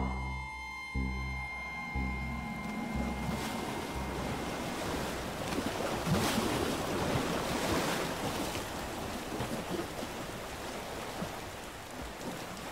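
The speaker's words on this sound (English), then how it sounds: "The violent raging sea slammed against the steel walls of the small vessel." Violent sea waves surge and crash against the steel hull of a small ship, with strong wind roaring steadily throughout, loud and continuous with no voices.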